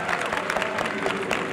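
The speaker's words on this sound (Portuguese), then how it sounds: "Palmas pra Rosa, gente." Applause for a performer at a tech-culture event stage, a dense crowd clapping steadily with some cheering mixed in, filling the whole short stretch.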